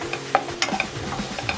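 Coriander powder and chili powder fry in oil while a spoon stirs the pan, making quick scraping strokes over a bright, close sizzle with no voices.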